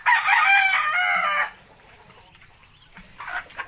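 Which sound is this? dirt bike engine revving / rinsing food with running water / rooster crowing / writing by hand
rooster crowing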